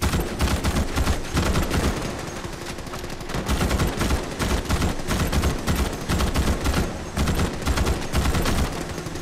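Continuous rapid gunfire from a weapon in the Starship Troopers: Extermination game, loud dense bursts of shots with brief dips, filling the whole stretch without talk.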